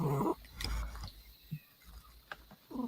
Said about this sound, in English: That's a cat purring,